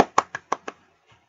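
Bare hands strike in a quick series of about five sharp, close slaps in roughly half a second, followed by a faint soft tap and quiet.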